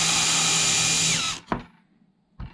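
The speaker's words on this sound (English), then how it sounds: "we need to counterbore it by about 3mm" A power drill counterbores a hole about 3 mm deep in a wooden drawer front for a fitted wardrobe: one loud, close, continuous whine that winds down, followed by a couple of brief knocks.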